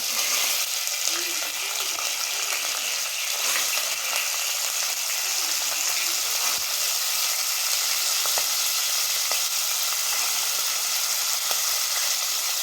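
Field beans fry in oil with a continuous broad hiss and sizzle, loud and close, broken by faint scrapes and clicks of stirring throughout.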